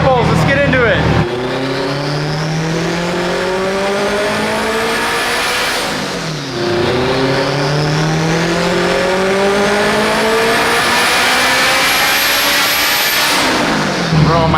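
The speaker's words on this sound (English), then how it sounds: "We're here at Dyno Shop, ready for the Integra to be dyno." Loud turbocharged all-wheel-drive Honda Integra revving hard on a dyno during power pulls, engine note climbing steadily in two long sweeps with a brief drop between them and turbo whine on top.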